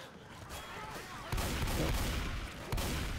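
Two heavy automatic shotgun blasts from the Left 4 Dead 2 video game, about a second and a half apart, land over dense, noisy game ambience, with voices mixed in.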